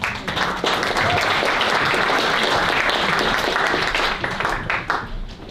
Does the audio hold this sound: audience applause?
yes